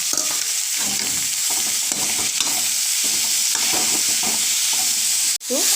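Spinach greens fry in a pan for a spinach and fish curry, a loud steady hiss filling the whole clip with soft stirring and scraping beneath, then a sudden clack as the sizzle briefly cuts out near the end.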